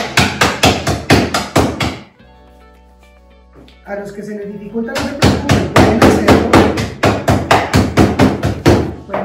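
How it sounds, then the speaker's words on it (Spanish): A hammer crushing ice for a gin and tea cocktail, rapid loud rhythmic blows in close succession, pausing while a person speaks, then resuming in a fast steady series of sharp impacts. "voy a utilizar una herramienta de barque muy sencilla, simplemente es un martillo"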